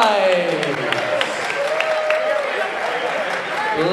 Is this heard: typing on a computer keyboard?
no